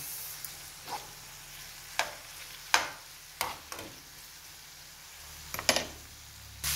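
Chicken breast and glass noodles stirred in a frying pan, a soft continuous sizzle broken by about eight sharp utensil scrapes and taps against the pan at irregular intervals, nearby and with no one speaking.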